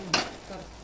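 Gajar ka halwa (carrot halwa) being stirred in a pan: a couple of short spoon scrapes through the thick mixture, with a soft sizzle in between.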